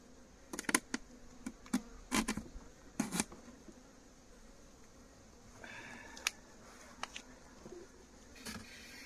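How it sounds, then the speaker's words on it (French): A small honeybee swarm in a cardboard box gives off a faint, low buzz, broken by sharp clicks and taps of handling the box nearby. "C'est vraiment un micro essaim."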